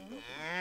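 A single cow moos on a mountain farm where cattle are kept for milk, cheese, yogurt and meat. The low, rising call is close and clear, sounds on its own with no talk, and is cut off abruptly.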